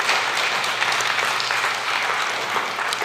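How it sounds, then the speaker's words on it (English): A lecture hall audience applauds after a question session on skepticism and faith, a dense, even wash of clapping held at a steady level throughout. "Round of applause for the great questions."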